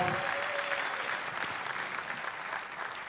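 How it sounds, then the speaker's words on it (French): Applause from an audience at a Moroccan social tech hackathon awards ceremony, a steady even wash of many hands clapping at moderate level, with a faint voice at the very start. "Applaudissez-les bien fort."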